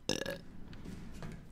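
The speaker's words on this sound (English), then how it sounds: "Especially with the burps." A single loud, throaty burp erupts close up, followed by faint, muffled background sound from a Resident Evil 7 gaming session.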